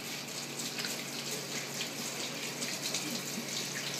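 Hands being washed under hot water running from a kitchen tap, a steady close splashing rush with no talk.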